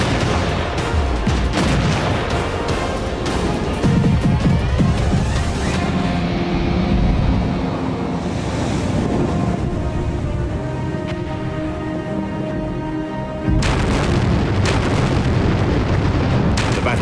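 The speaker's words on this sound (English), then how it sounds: "Battleship Texas would fire more than 500 rounds" Heavy naval guns of the battleship USS Texas fire in World of Warships, a dense rumbling barrage of booms and blasts that swells and fades over a sustained roar.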